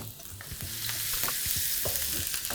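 Garlic and ginger sizzle in hot oil with spices and Sichuan peppercorns, a loud steady frying hiss broken by a few clinks and scrapes of a utensil stirring the pan.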